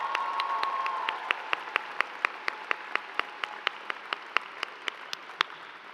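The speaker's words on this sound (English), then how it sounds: "Please help me in giving Allison another round of applause." Scattered clapping from a crowd at the 2024 Moody College graduation ceremony thins into a few loud, evenly spaced single claps near the end.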